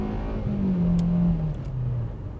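A 2020 Hyundai Elantra accelerates hard, its engine note rising steadily and loudly as it revs out, heard close up from inside the car without talk.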